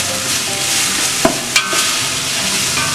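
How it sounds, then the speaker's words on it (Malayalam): Ground paste stirred into softening onions in a pan, with a steady close frying sizzle and a couple of sharp spatula scrapes. "ഇതിലേക്ക് നമ്മൾ അരച്ച് വെച്ചിരിക്കുന്ന പേസ്റ്റ് കൂടെ ചേർത്ത് കൊടുക്കുക. നന്നായി ഇളക്കി കൊടുക്കുക."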